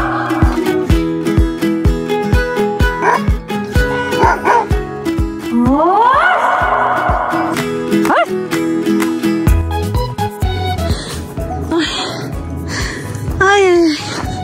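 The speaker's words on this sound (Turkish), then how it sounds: "Bunlar yukarı köyün köpekleri ha" Village dogs bark and yip in a rapid, continuous chorus nearby, mixed with louder, busier activity and a voice, with faint whimpers between barks.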